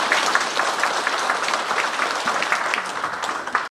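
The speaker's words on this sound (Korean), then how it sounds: "군수님께 큰 박수 한번 부탁드리겠습니다" Audience clapping at a county town talk concert with about two hundred residents in a community hall, a dense, steady round of applause lasting a few seconds before cutting off abruptly.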